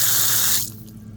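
Water gushing from a repaired outdoor faucet, loud and close, then cutting off abruptly as the tap is shut.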